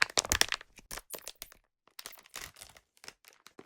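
Wackadoo Dough Ball fidget toy packaging being ripped open up close, a burst of sharp crackling and tearing at the start, then a brief pause and a second run of softer crinkling snaps and crunches.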